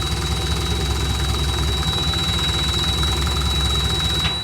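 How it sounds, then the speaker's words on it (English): A 454 V8 engine idles steadily in a COE truck, a continuous low rumble with a faint steady high whine throughout, close and fairly loud, without speech. "And it's idling and everything at the appropriate RPM now."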